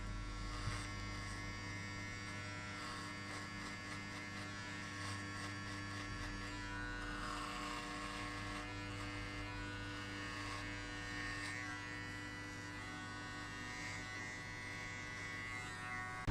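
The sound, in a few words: electric hair clippers cutting a skin fade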